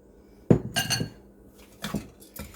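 Carrot cake muffin batter mixed in a bowl, a few sharp clinks and scrapes of a utensil against the bowl, spaced out with quiet gaps, close and fairly loud.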